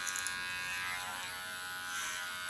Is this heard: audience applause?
no